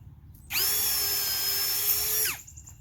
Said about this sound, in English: now I'm going to drill my lower pilot hole